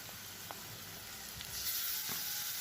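Washed mushrooms drop into a hot pan, and a steady close sizzle swells louder partway through, with a few small clicks of the pan and spoon.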